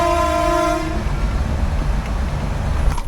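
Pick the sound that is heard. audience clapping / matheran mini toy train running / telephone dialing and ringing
matheran mini toy train running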